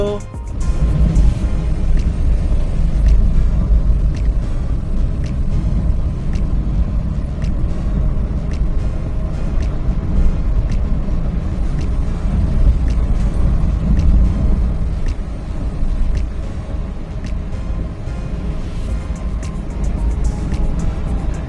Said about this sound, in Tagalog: medyo madidinig mo talaga sa highway yung lalo sa asfalto ang gulong basta mga malalapad na gulong